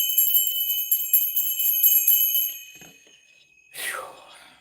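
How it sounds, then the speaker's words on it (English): A small handheld bell rings rapidly and repeatedly for a couple of seconds, bright and close, then its high metallic tone fades away before a brief breathy rush of air. "Let me just ring my bell"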